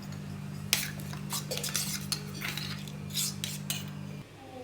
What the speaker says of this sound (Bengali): এতে একটু জল দিলাম দিয়ে মশলাগুলো মিশিয়ে নেব